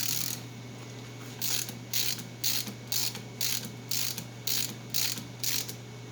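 Close, rhythmic clicking of a ratchet wrench tightening axle bolts during a Dana 60 axle conversion, about ten even bursts of pawl ratcheting over a steady low hum, with no talking.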